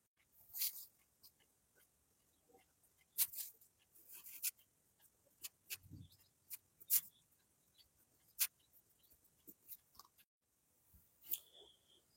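Pen writing out a trigonometry solution on paper: sparse, faint scratches and taps come in irregular short bursts over several seconds, close and quiet, with no talking.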